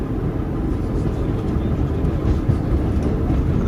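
A train runs along a rail line, a steady low rumble and rolling clatter heard from on board, continuous and fairly loud, with no voices over it.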